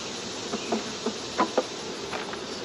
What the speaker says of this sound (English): The freaking outside frame is full of bees.